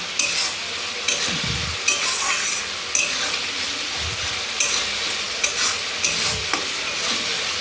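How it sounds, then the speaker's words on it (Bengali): Spices fry in oil for a Bengali tilapia fish curry, a continuous close sizzle broken by repeated scraping stirs of a utensil against the pan at a loose, regular rhythm, without speech. "যেই দেখবেন একটু ভাজা ভাজা হয়ে এসছে তখন তারপরে একটু জল দিয়ে দেবেন"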